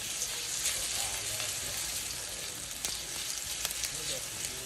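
Chopped garlic frying in a pan until golden brown gives a dense, continuous close sizzle with faint stirring scrapes and little change in level throughout.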